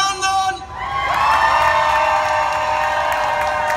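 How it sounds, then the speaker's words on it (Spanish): A crowd at an accordion battle at a San Antonio fan fair cheers and whoops loudly for a player, with shouts rising over clapping and a sustained tonal note ringing beneath. "Y el aplauso bien fuerte,"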